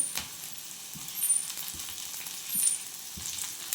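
Coriander and tomatoes frying in a pan for a home-style vegetable dish, giving a soft, steady sizzle with occasional light stirring clicks, fairly quiet and close.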